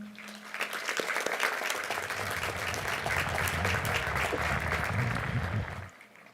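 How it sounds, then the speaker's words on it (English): A large crowd at a high school graduation ceremony in White Bear Lake gives a long, even round of applause in a big hall, sustained for several seconds before tapering off at the end. "Graduates, please join me in a round of applause for all of the support they have provided you."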